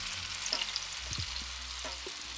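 Onions fry with a soft continuous sizzle in a pan, a few low knocks and scrapes as they are stirred, quiet and steady throughout.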